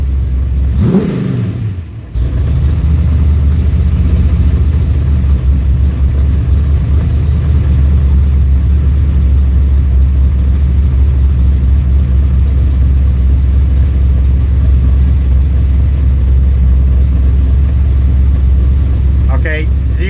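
A flooded car engine revs up and then holds a loud, steady rough drone at high idle, surging slightly, after a brief dip near the start.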